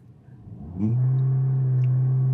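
A 2022 Peugeot 508 GT with the 1.6 PureTech 225 hp engine and EAT8 gearbox revs up sharply from idle. It then holds a steady, loud drone close by, with no talk.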